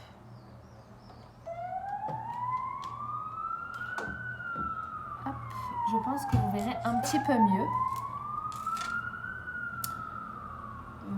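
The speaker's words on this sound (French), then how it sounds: "j'ai attendu que l'ambulance passe" An ambulance siren wails in long, slow rising and falling sweeps as it passes by outside on a late afternoon. It grows louder toward the middle, while someone speaks French close by over it.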